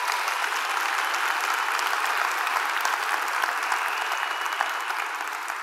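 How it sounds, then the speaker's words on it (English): Audience at a national education conference keynote gives a sustained, dense round of applause, loud and even from start to finish. "I want to actually quickly ask for a big round of applause for Steve, Kathy, and Liz"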